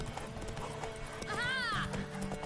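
Game horse in The Witcher 3 with clip-clopping hooves under a busy mix, a short whinny rising over it midway, while a voice talks over the scene.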